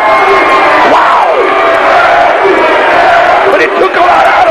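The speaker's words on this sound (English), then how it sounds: "Crowd at the TNA Asylum trying to cheer him on" A wrestling crowd at the TNA Asylum cheers and roars steadily throughout, a loud, dense wall of voices with shouts rising out of it, including one prominent yell near the start.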